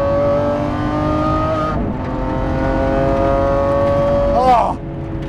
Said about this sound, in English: I am driving a 2020 Lamborghini SVJ.